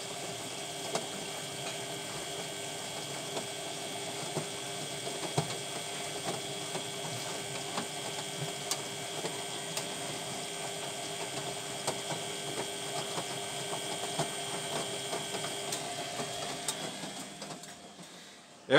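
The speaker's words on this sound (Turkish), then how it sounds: "Hala su alıyor makine" A washing machine takes in water while running, a steady, faint mechanical hum and hiss with small clicks that continues evenly and then stops abruptly near the end.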